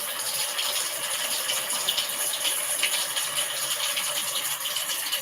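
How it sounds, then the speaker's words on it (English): Rain dripping sound effect played from a phone app, a steady dense hiss of falling water with scattered patter, even and continuous throughout with no voices. "I'm going to do rain dripping."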